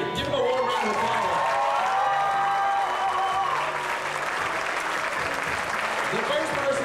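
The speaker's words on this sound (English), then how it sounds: "Give them a warm round of applause." A warm round of applause from a university audience for a jam band at a campus jamboree, steady clapping mixed with crowd voices and a few cheers, with talk faintly audible beneath.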